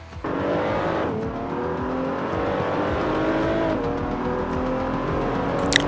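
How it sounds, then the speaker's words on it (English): A BMW Z4 race car engine in Assetto Corsa at the Nürburgring Grand Prix circuit, droning steadily at high revs with gear-shift dips and a brief tire squeal near the end. "Today we're racing on the Nürburgring Grand Prix with the BMW Z4"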